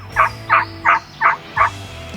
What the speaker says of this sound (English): So me and Chase, we hear a couple birds